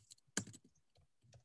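Keys on a computer keyboard tap in a short, irregular burst of quiet clicks during an online meeting, one sharper keystroke standing out among softer presses, with no talking.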